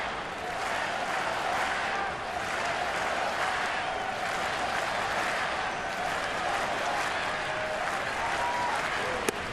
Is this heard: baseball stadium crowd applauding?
yes